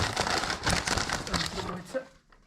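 A plastic bag crinkles and rustles continuously as it is handled up close, with dense crackling bursts over about two seconds before fading out.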